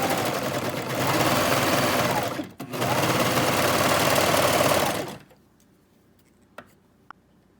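A serger overlocker machine stitches fabric around a curve in a loud, rapid mechanical whir that runs in two bursts with a short pause between them, then stops and leaves a few faint clicks.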